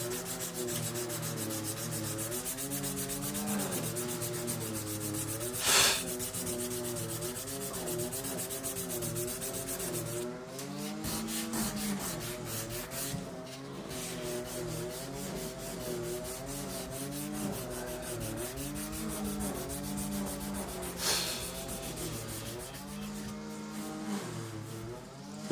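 Steady rubbing strokes of 240-grit sandpaper sanding a piece, a continuous close, quiet scratching with a rhythmic back-and-forth pattern and a couple of sharper scrapes, with no talking over it.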